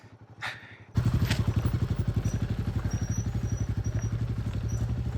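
A Royal Enfield Guerrilla 450 motorcycle rides off road in first gear, its engine thumping in a loud, steady, rapid pulse close to the microphone after a brief quieter start.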